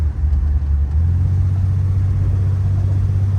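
A Valiant car cruises along the road, its low engine rumble and drone steady and close throughout, with no talking over it.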